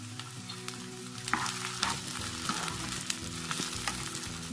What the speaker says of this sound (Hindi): ये भिंडियाँ हम डालेंगे पैन में।